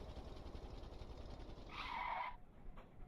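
A tractor in the Stormworks video game brakes hard, its faint engine rumble giving way to a brief high tire screech that cuts off abruptly.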